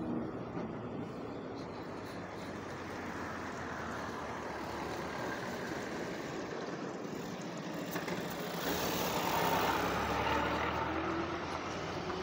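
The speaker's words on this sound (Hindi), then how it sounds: "आयशर की चैसिस आ रही है बनाने के लिए गाड़ी को।" An Eicher truck chassis drives along, a steady engine drone and road roar that swells louder near the end, with no talk.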